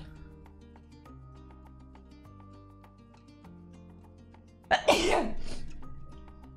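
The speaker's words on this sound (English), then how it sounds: "All right, I sneezed." A single loud, close sneeze from a person bursts out over quiet background music after cat hair got in their nose, followed by a short breathy tail.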